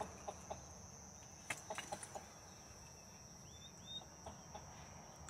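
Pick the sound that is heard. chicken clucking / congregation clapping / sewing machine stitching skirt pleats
chicken clucking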